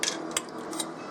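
Metal canning jar lids and screw rings clink and rattle as they are handled in a home kitchen while canning spaghetti sauce, with several quick, bright taps close by.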